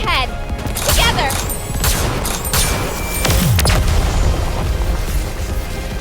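Gunfire and heavy booming explosions from the mobile game Goddess of Victory: Nikke, played on iOS, come in loud, dense volleys with sharp bursts, while voices speak over the battle.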